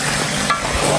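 Food stir-frying in a pan during Mongolian cooking by a lakeshore, a steady close sizzle with scraping stirs and a soft clank.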